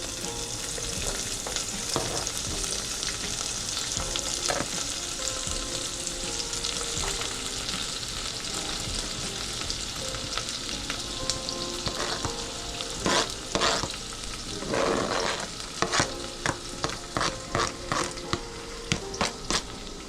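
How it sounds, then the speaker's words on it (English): Onions sautéing in bacon grease for a baked potato soup, a steady close sizzle and crackle throughout with scraping stir sounds and sharper pops toward the end. "we're gonna use that bacon grease and actually use that to cook our onions"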